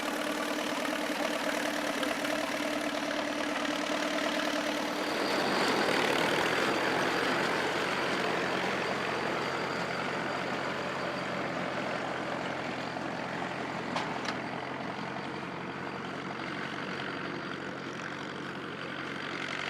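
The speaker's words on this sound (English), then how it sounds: "with just a little effort, the engine powered up again, and in a few minutes they were back to work" An old engine powering a baler runs steadily at a vintage farm machinery gathering in Portage la Prairie, Manitoba, its rumble building after a few seconds into a loud, continuous mechanical roar that holds to the end.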